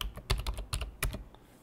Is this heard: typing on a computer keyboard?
yes